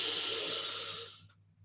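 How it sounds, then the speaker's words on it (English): A slow exhale during a guided relaxation, a soft breathy hiss that gradually fades out over about a second and a half, close and alone with no talk. "And breathe out and relax."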